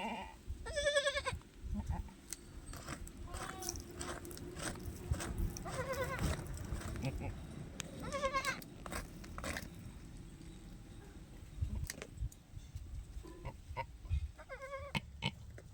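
A goat in labour bleats repeatedly among rustling and shuffling movement, the cries faint to moderate and spaced out over low background noise.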